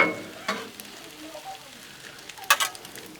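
Shrimp and onions stir-fry on a Blackstone griddle with a soft steady sizzle, a couple of sharp metal scrapes of a spatula spreading them out near the start and middle.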